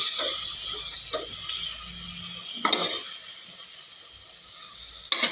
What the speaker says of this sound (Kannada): ಸೊ ಇದೆಲ್ಲದನ್ನು ಹಾಕಿ ಫ್ರೈ ಮಾಡೋಣ.